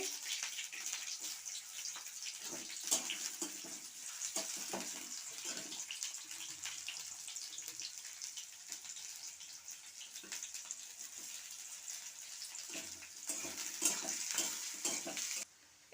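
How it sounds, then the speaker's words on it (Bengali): Chopped onion fries in hot oil in a wok along with a bay leaf, giving a steady close sizzle broken by occasional scraping stirs and clinks. "এই যে একটু পেঁয়াজ কুচি দিয়ে দিচ্ছি"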